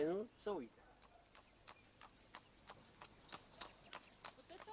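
Horses pulling a cart clip-clop along at a steady, even pace, their hoof strikes crisp and moderately close, after a brief burst of speech at the start.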